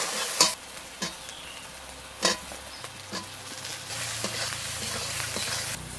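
Ginger, garlic and cumin paste with turmeric, salt and chilli powder sautéing in a pan with tomato, a soft steady sizzle broken by occasional scrapes and clinks of a stirring spoon, no talking.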